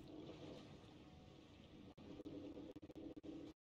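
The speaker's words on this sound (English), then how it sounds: "Dude, this is a lot of water." Water rushing in Man of Medan, a faint, steady gushing flow with bubbling texture that stutters into several brief dropouts before cutting off abruptly.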